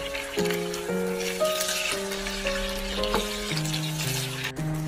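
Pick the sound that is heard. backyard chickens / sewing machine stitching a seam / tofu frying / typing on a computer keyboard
tofu frying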